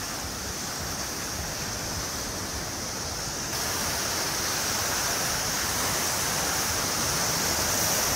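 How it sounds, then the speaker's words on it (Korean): A steady, broad roar of ocean surf at Hajodae Surfyy Beach in Yangyang, Gangwon, waves rushing continuously with no pauses and no voices. "이쪽 역시 파도가 상당하네요."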